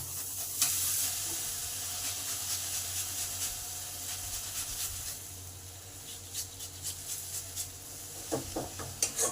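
Spices cooking with turmeric and grated tomato in a pan, a soft continuous sizzle and hiss with light stirring scrapes, growing into a burst of clatter near the end.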